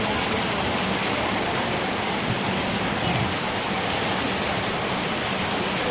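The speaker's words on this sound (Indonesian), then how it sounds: "ini adalah hujan pertama setelah sekian lama tidak hujan" Steady, dense rainfall in Jombang, the first rain after more than a month of dry weather, a constant loud broadband hiss with no breaks and no voices.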